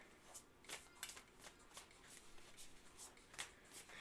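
Tarot cards being shuffled by hand, a quiet series of soft riffling and flicking bursts repeating at an uneven rhythm, close and faint with no voice.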